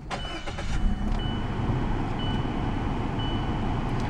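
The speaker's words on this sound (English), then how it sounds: "this vehicle does have push button start, so just press your foot on the brake and press the button to start" A 2016 Scion iA with a 1.5-liter inline four-cylinder engine starts up by push button, then settles into a steady, even idle heard close up with no talking.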